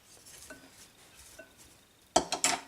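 Tomatoes are stirred and squashed for a lacto-fermented salsa, with soft scraping taps of a utensil against a bowl and a few louder wet clinks at the end, close and quiet.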